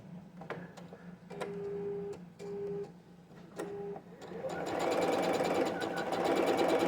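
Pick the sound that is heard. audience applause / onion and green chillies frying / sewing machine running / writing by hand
sewing machine running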